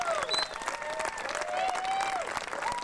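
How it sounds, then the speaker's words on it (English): Audience applause for the top male riders of the Grundig UCI World Cup downhill cycling series, steady clapping from a crowd with a voice talking over it, heard at moderate distance. "how about a round of applause for our top 5 male riders in the Grundig UCI World"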